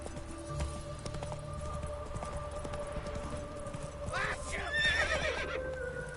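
In The Witcher 3 video game, a horse neighs with a sharp rising whinny over steady hoof clip-clop and background hum, fairly faint.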